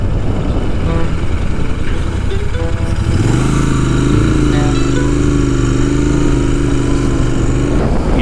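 A Royal Enfield Interceptor 650 motorcycle cruises steadily at around 70-80 km/h on a good road, its engine a loud, continuous drone. The pitch settles into a smooth, even hum after a few seconds, with wind rush over the top.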